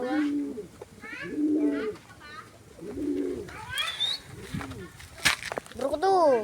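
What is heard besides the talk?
pigeons cooing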